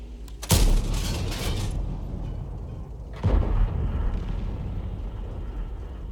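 Two heavy booms from a tank's 105mm gun in a video game, the first near 0.5 s and the second around 3.3 s, each with a rumbling tail over continuous low engine noise.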